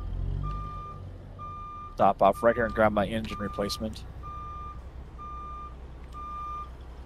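Reversing beeps from a truck in American Truck Simulator, a steady series of evenly spaced beeps at a moderate level over engine rumble, with someone speaking over the middle of the run.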